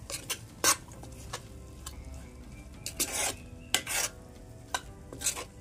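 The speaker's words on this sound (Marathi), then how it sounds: "आता मी यामध्ये ऍड करते ही वेलची पूड. आता आपल्याला ते एकत्र मिक्स करून घ्यायचं आहे." Spoon stirring cardamom powder into jaggery modak filling in a pot, scattered scraping and clinking strokes at irregular intervals over a quiet background.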